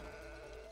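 A sheep bleats in the video game It Takes Two, a short, wavering cry heard close and alone.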